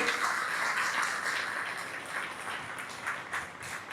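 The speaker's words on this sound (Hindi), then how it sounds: "कैथल वालों के लिए जोरदार तालियां हो जाए इसके लिए" An audience at a gathering applauds for the people from Kaithal, a steady, even wash of clapping at moderate volume with no voice over it.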